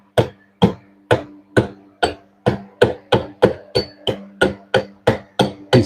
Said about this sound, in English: chisel work.